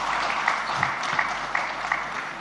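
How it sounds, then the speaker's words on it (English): Audience applause at a live summit session in India, a steady dense wash of clapping that holds at moderate level throughout with no voices over it. "I think now she deserves an applause, and Bandhan too."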